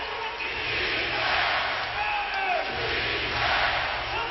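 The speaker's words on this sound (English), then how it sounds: "The crowd on its feet, ready to celebrate." Roaring basketball arena crowd at an NBA playoff game, Oklahoma City vs Dallas, a loud sustained cheer swelling and surging throughout under faint commentary.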